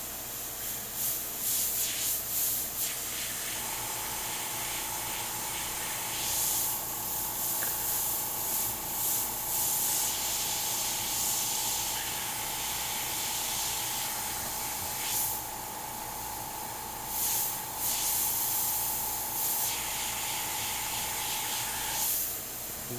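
An airbrush hisses steadily while spraying paint to shade a skull artwork, a continuous close air-and-spray noise with a faint steady tone and small pulses as the trigger varies.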